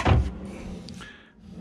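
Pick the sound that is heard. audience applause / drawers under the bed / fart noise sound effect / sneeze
drawers under the bed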